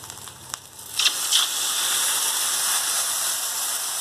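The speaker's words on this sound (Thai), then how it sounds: "พอผัดมันหอมดีแล้วเดี๋ยวเขาก็ใส่น้ำล้างครกลงไปจ้ะ" Mortar-rinsing water hits a hot pan of stir-fried Thai eggplant, a couple of clicks followed by a steady loud hiss of sizzling and steam that holds to the end.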